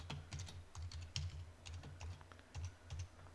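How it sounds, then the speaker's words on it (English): Password being typed on a computer keyboard during a VMware Cloud Foundation setup: a quick, uneven run of close, crisp key clicks in short bursts with brief pauses, no voices. "So let me type in that password."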